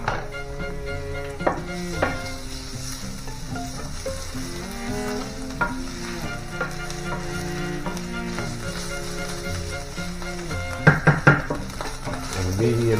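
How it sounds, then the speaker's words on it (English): Tomato paste and garlic caramelize in a pan over medium heat with a continuous soft sizzle, broken by occasional stirring scrapes and a quick cluster of utensil clinks near the end. "Caramelize the tomato paste with the garlic."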